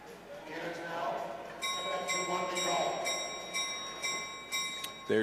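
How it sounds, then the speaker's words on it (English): A lap bell rings repeatedly at a long track speed skating championship, a bright metallic clanging struck in a quick series over crowd noise and an announcer's voice, fairly loud and close. "There's the bell for 1 lap to go."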